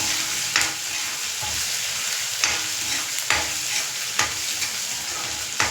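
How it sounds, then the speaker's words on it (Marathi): Ginger-garlic paste sizzles in a hot pan while a spoon stirs it, giving a steady frying hiss broken by several sharp scraping knocks of the utensil against the pan, close and fairly quiet, with no talking. "अद्रक आणि लसूणाची पेस्ट टाकले झालं हे थोडं हलवायचं लागलं"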